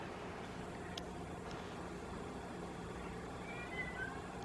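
Cats meow faintly and briefly through steady, hissing background noise, with no one talking.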